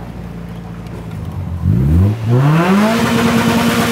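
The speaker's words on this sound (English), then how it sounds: "Motor sounds pretty healthy" A car engine revving up close, the pitch rising sharply through a quick blip and then climbing again to hold a steady high drone, with no talk.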